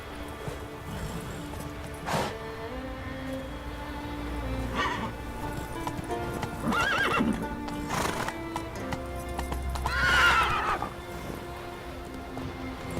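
Roach, a horse in the video game The Witcher 3, gallops with rhythmic hoofbeats while whinnies and snorts break through at intervals, over a light pattering layer of rain and quiet game ambience.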